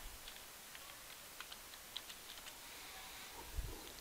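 A computer keyboard clicks out a password: quiet, scattered keystrokes in an irregular rhythm over faint room hiss, with no talking.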